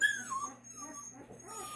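Young Newfoundland puppies whimper with thin, high, wavering cries, several brief whines close by over a quiet background.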